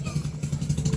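A motorcycle engine runs nearby with a low, throbbing putter, steady and rough for a brief moment.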